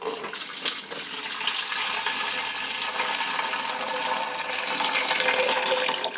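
Sugar solution dissolved in a sample of beer is poured into a home brew batch, giving a steady, fairly loud rush of liquid for several seconds with no speech.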